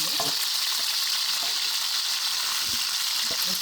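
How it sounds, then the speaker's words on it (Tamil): Cassava fries in hot oil in a Sri Lankan kitchen with a dense, steady crackling sizzle, broken by a few soft knocks of a spoon. "எல்லாம் சூடாகினது அப்புறம் மரவள்ளிக்கிழங்கு போட்டு பொரிக்க"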